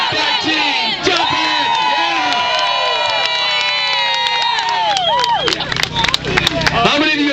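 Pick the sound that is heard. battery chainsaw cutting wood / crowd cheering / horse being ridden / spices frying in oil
crowd cheering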